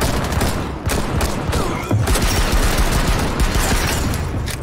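Rapid, close, loud automatic gunfire in Rainbow Six Siege ranked play, dense overlapping bursts of shots filling the whole stretch with barely a pause.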